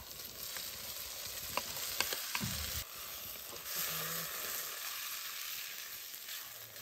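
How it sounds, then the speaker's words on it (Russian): Sausage sizzles in a frying pan with golden onion and carrot, a steady hot crackle with a few sharp pops and brief stirring scrapes, close and continuous. "Немножко обжарили колбаску"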